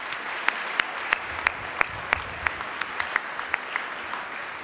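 Steady applause from a graduation crowd, a dense wash of clapping with a few sharper individual claps standing out, continuing evenly throughout.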